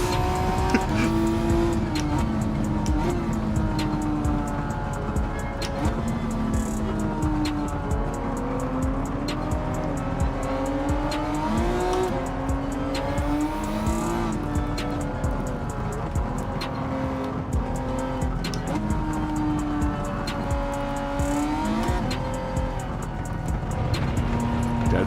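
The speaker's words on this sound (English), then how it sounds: "Look how fast this car goes through its fourth gear." Race car engine in Gran Turismo 7, loud and continuous, revving hard and pulling steadily through the gears, pitch repeatedly climbing then dropping at shifts, with occasional tire squeal and no talk.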